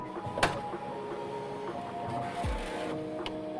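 A Bambu Lab P1S 3D printer heating its nozzle and bed, with a low steady machine hum, faint fan tones, a sharp click early on, a short descending whir and a few soft ticks, no speech.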